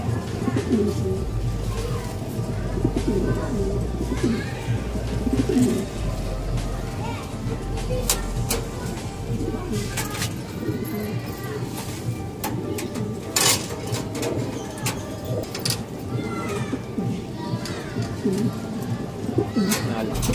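Breeder pigeons coo repeatedly nearby in a soft, throaty rhythm, with other birds chirping and a voice talking at times in the background.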